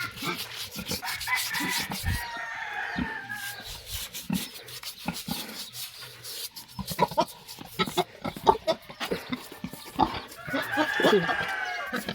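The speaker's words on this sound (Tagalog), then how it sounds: "Ang likot ng baboy." A restless pig grunts and squeals as it is scrubbed with a toothbrush; the grunts and squeals come and go over steady rubbing and scraping, with chickens faintly in the background; loud and close throughout.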